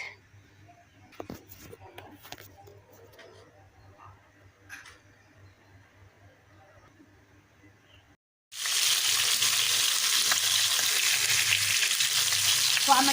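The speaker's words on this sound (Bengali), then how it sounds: "মাছগুলোকে প্রথমে ফ্রাই করে নিচ্ছি" Rohu fish frying in hot oil, a loud steady sizzle that starts suddenly about eight seconds in and fills the rest, preceded by quiet kitchen clatter and faint background sounds.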